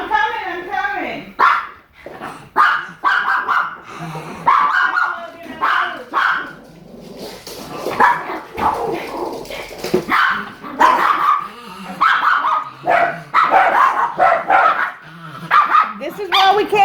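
A dog barks repeatedly and loudly from nearby in a home kitchen, sharp barks and yips recurring throughout, mixed with people talking over and between them.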